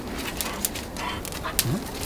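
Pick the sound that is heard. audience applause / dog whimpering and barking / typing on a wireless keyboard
dog whimpering and barking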